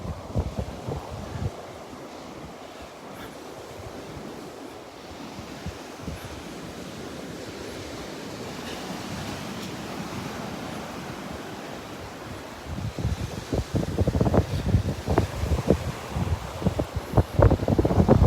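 Wind buffets the microphone on a morning walk along the beach at Delnor-Wiggins park, with surf rolling underneath and gusts growing louder and choppier toward the end.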